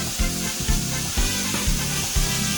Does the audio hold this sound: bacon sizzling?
yes